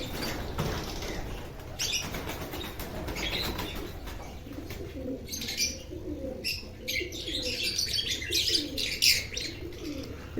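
Pigeons flap their wings in repeated bursts of fluttering, mixed with soft cooing and chirps, close by and moderately loud in a busy setting with handling commotion.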